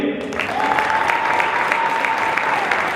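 A gym crowd at a high school boys basketball game applauds the seniors of North Quincy High School, producing steady, dense clapping that holds at an even level across the whole stretch, with a faint tone running underneath.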